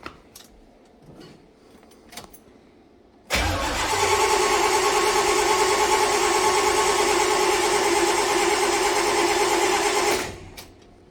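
A car engine cranks over without starting, its starter motor whirring in a steady, loud drone for about seven seconds before cutting off, preceded by faint handling noises.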